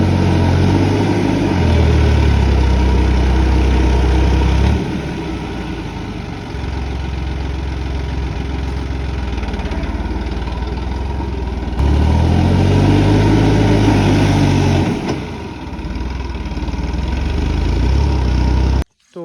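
Massey 9500 and Swaraj 744 tractors running during pudding work, a steady low diesel rumble and chug held close throughout, swelling louder in stretches as throttle rises, then cutting off abruptly at the end.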